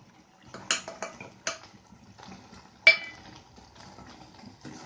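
Ground pepper masala is stirred into chicken in a pan, a spoon scraping and knocking against the metal in a few sharp clatters with softer sizzling scrapes between, close and without talk.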